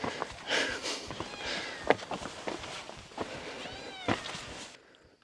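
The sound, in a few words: cat meowing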